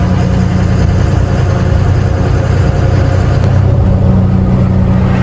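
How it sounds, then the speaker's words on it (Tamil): A lorry engine runs steadily while the truck drives slowly in the morning, a continuous low rumble with a droning hum that stays loud and even throughout, with no talking. "இப்போ காலையில் வண்டி எடுத்து அப்படியே மெதுவாக போயிட்டுருக்கோம்"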